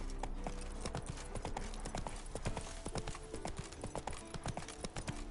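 Roach, a horse in The Witcher video game, gallops with steady rapid clip-clop hoofbeats, close and loud, over a constant ambient bed with faint background sound.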